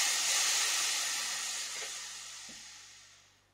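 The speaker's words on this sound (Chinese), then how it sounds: "首先是逆时针旋转这个红色的旋钮， 把这一端的高压空气排空" High-pressure air hisses out of an air compressor line feeding a nail gun as a red knob is turned, a loud broad rush that slowly fades away over a few seconds.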